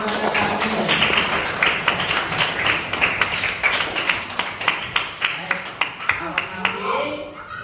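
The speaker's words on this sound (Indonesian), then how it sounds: "tepuk tangan untuk mereka" Second-grade pupils in a classroom lesson on the Prophet Nuh clap for classmates who answered correctly, starting as a busy patter and settling into slower, rhythmic unison claps that end abruptly, with voices mixed in.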